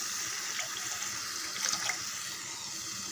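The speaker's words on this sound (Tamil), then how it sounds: "2 டம்ளர் தண்ணி வர அளவுக்கு விட்டு கலந்துடலாம்" Tamarind water pours into a simmering pan of tomato kuzhambu, giving a soft continuous trickle and splash at low level for a few seconds, with no speech.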